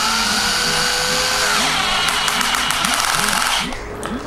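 A Cheston 12V cordless drill whirs steadily up close as its keyless chuck spins to tighten onto a drill bit, a pulsing motor drone running for about three and a half seconds before tapering off.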